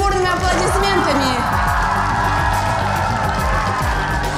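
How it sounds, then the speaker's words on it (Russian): Crowd cheering and whooping for a winning youth camp team at a summer holiday event, a dense loud roar that holds steady throughout, mixed with music and voices. "Давайте их поддержим бурными аплодисментами"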